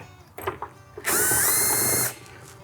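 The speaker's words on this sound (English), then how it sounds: "I'm just gonna secure these screws." A power drill drives screws into a van roof aerial mount, giving a single loud, steady whir of about a second after a few quieter handling knocks.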